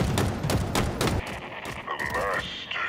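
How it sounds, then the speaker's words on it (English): Rapid bursts of gunfire from Halo Infinite, dense overlapping shots through the first second, then sparser cracks and electronic weapon whines continuing under game sounds. "what the hell are they shooting at?"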